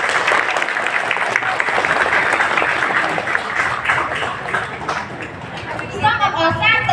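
An audience at a school certificate ceremony claps loudly in a dense, sustained burst that eases slightly near the end, where a voice begins to come through.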